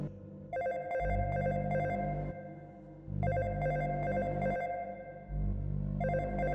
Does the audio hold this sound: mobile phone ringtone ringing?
yes